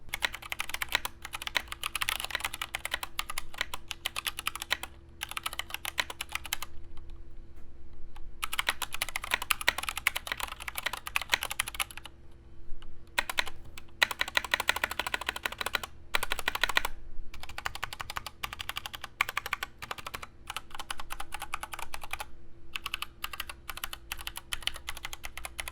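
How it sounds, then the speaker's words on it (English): Steady mechanical keyboard typing on Gateron Brown switches, rapid tactile clacks in quick bursts with a few brief pauses, heard close up with no talking. "y'all can hear what the Gateron Browns sound like on this keyboard"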